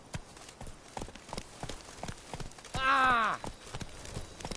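Roach, a horse in The Witcher 3, clip-clops along in a steady galloping rhythm, broken midway by a loud neigh; a rider's brief exclamation sounds over the hooves.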